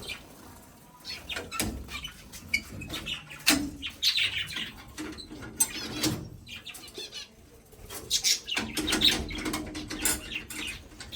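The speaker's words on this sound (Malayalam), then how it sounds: "ലവ് ബേഡ്സും പിഞ്ചസും ഒക്കെ ഉണ്ടല്ലോ" Pet lovebirds and finches chirping nearby in short, overlapping bursts of bright tweets, with rustling and fluttering between calls and no speech.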